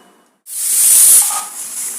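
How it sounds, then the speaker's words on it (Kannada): A pressure cooker on the stove, cooking field beans, lets out a loud, sustained burst of hissing steam that starts abruptly after a brief silence and carries on strongly to the end. "ಈಗ ಮೂರು ಸಲ ಕೂಗಿದೆ ಕುಕ್ಕರ್ ಆಫ್ ಮಾಡಿದ್ದೀನಿ ಸ್ಟವ್"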